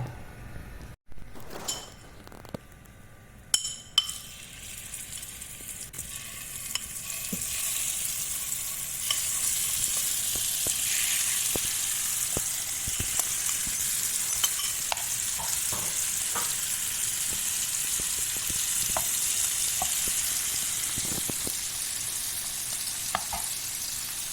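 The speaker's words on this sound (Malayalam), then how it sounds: "അപ്പം ആ നേരം കൊണ്ട് ഇവിടുത്തെ ചെമ്മീനൊന്ന് പൊരിച്ചെടുക്കുക" Prawns frying in a pan for a Kerala-style prawn, raw mango and drumstick curry, with a steady, close hiss of sizzling oil that holds for the whole stretch and a few clatters near the start.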